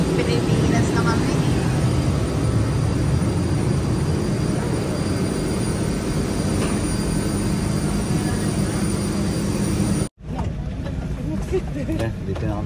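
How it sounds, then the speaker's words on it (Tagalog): Steady, loud, broadband engine roar inside a large passenger airplane cabin, continuous throughout with a brief dropout near the end. "Dito na kami sa loob ng aeroplano"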